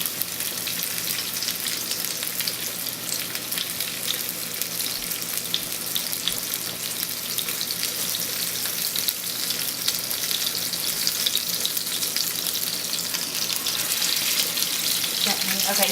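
Stuffed tomato filling frying in a pan, loud continuous close sizzle with a watery hiss, steady throughout and rising slightly at the end.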